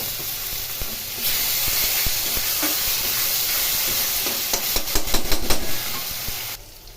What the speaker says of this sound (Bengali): ফোড়ন একটু ভেজে দিয়ে এর মধ্যে কপির ডাঁটা পেস্ট দিয়ে দিলাম।